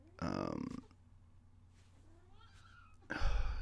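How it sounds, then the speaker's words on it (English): A house cat gives two loud, close meows separated by a quiet gap, the second cutting in sharply at the end. "There goes the cat."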